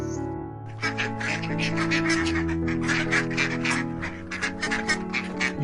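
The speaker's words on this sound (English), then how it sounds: "ducks" Ducks quacking in a busy overlapping chorus of repeated nasal calls, fairly close and loud, continuing for several seconds.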